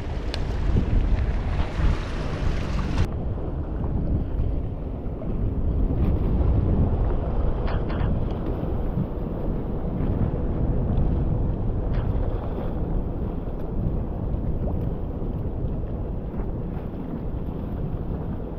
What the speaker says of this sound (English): The wind is coming from this direction, so it's a bit side wind.